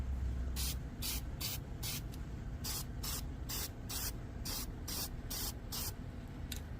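Short hissing bursts from a spray paint can, about a dozen quick sprays in an uneven rhythm, close and fairly quiet.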